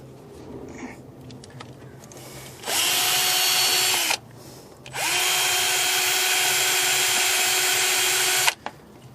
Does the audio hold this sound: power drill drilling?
yes